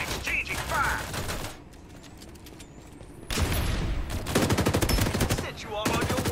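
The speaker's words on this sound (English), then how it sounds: "Exchanging fire." Rapid bursts of automatic gunfire crackle in a firefight in the video game Farlight 84, with a dense opening volley, a short lull, then more sustained shooting.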